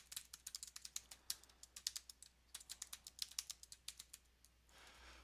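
Computer keyboard typing at a steady pace, a quick run of light key clicks, close and fairly quiet, with no voice over it and a soft hiss at the end.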